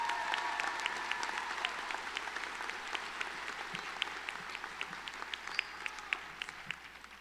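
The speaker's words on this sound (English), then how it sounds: "Let's take a moment and cheer for our first-generation college student graduates." Sustained applause from a commencement crowd honoring first-generation college graduates, a dense, steady clapping that holds for several seconds and slowly tapers, with a few louder individual claps standing out near the end.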